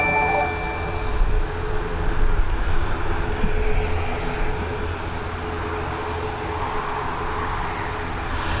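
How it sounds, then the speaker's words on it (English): A five-year-old Boeing 737 MAX jet on runway 10R at Dublin Airport gives a steady, moderately distant engine roar with a whining tonal hum, holding fairly even throughout and no talk over it. "And next up, we've got a Boeing 737 MAX."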